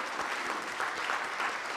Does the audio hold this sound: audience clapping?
yes